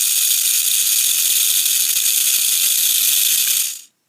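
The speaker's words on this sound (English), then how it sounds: "That's kind of an annoying motor," A mini RC submarine's small electric motor whines loudly and steadily at close range, then stops abruptly near the end.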